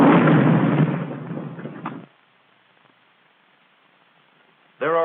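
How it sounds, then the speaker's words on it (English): An M1 bazooka anti-tank rocket fired during a 1943 US Army training demonstration: a loud, rushing blast lasting about two seconds that cuts to near silence before a voice briefly begins. "terrific backblast of flame when the rocket's fired"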